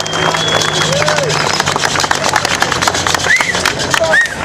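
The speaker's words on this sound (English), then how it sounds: "can we have one more round of applause for Norm Weekly?" A street-side crowd at a Cruisin' Grand car show in Escondido, California claps and whoops for a slingshot drag racer. The clapping is dense and close, with voices and shouts rising over it and a low engine rumble underneath.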